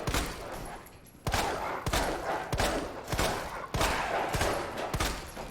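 Rapid gunfire in Resident Evil 2 with unlimited ammo: loud bursts of repeated shots in quick succession, several separate volleys cut by short gaps, close and dominant with no talking.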